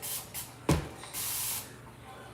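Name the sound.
spraying water from a spray bottle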